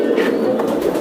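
Teddy pigeons kept in cages coo and murmur, a low steady burble heard close by for about a second.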